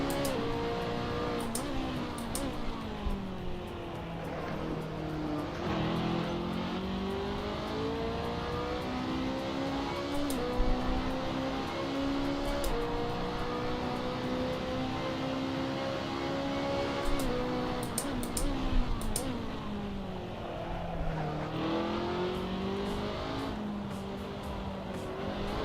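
A racing car engine in a driving game holds high revs through a long drift, the pitch rising and dipping as the throttle is worked, with faint tire scrub and occasional clicks, no voices.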